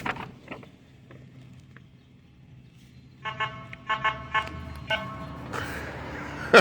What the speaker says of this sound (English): You hear him beeping his horn back at me?